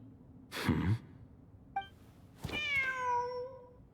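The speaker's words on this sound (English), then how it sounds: "The cat!" A cat meows in the video game Genshin Impact: a short breathy sound, a brief chirp, then a longer, clear, drawn-out meow, with no talk.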